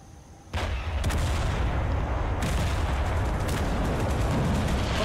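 Artillery fire in the war game Total Conflict Resistance, a loud barrage that erupts abruptly and keeps roaring with repeated heavy blasts layered into a dense, continuous rumble.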